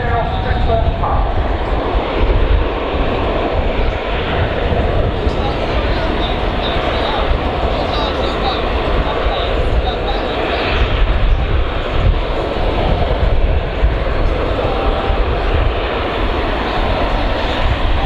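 Kawasaki P-1 maritime patrol jet flying a demonstration at an air display, a loud continuous engine roar filling the whole stretch, with a commentator talking over it.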